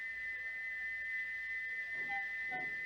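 A steam locomotive whistle in the Trainz video game holds one steady, thin high tone throughout, fairly faint over a quiet background hiss.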